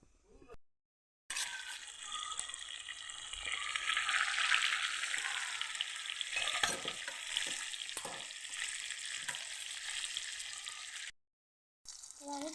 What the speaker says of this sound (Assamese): কেৰাহীত পিঁয়াজ দি দিলোঁ আৰু পিঁয়াজখিনি অকণমান ৰঙচুৱা হ'বৰ কাৰণে দিছোঁ।